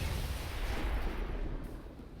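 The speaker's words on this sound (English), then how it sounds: "our explosions are making some hell of a noise" Explosions in the XCOM 2 Long War of the Chosen game: a loud, dense booming rumble that fades slightly toward the end, heard alone.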